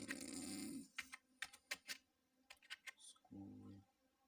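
Someone types on a computer keyboard, producing a handful of quick, close, separate key clicks in short bursts. A voice speaks at the start and end.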